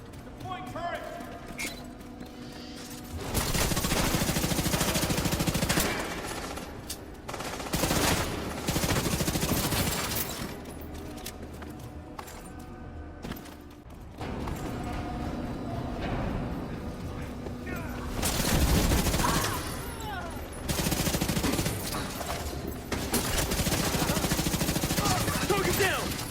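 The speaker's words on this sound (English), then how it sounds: "Deploying turret." A deployed turret fires in The Division 2, sustained rapid automatic bursts under layered game effects and other gunfire, loud and dense with brief lulls, with a voice speaking intermittently over the action.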